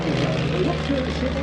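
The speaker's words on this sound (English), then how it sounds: "One of the other aircraft flying in our showcase right now is the Fuji LM-1." Fuji LM-1, a license-built Beechcraft T-34 propeller plane, flying at an air show, its steady engine drone running throughout under close commentary.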